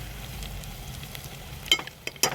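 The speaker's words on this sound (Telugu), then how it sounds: "ఈ మసాలాలు మొత్తం మంచిగా ఫ్రై చేసుకోవాలి" Spices and chili powder fry in a hot pan with a steady low sizzle, joined near the end by a few sharp scraping stir strokes; no one speaks.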